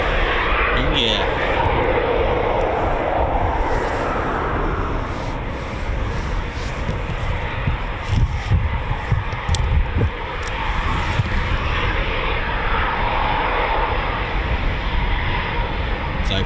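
Eurofighter Typhoon FGR4 fighter jets of 3 Squadron at RAF Coningsby, a sustained distant jet engine rumble and roar with wind buffeting, under voices talking.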